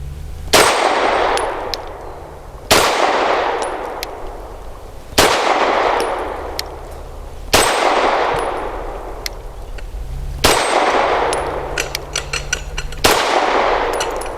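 SAR USA P8L pistol fired with CCI Blazer 115 grain rounds: six loud, sharp reports spaced roughly two to three seconds apart, each with a ringing decay and faint metallic clinks between.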